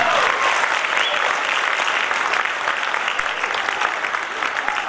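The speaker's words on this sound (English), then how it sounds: "Round of applause, please." Sustained, loud applause from a large audience at a Canara World Foundation Canada decennial celebration, a thick even wash of clapping that fills all five seconds and eases slightly toward the end.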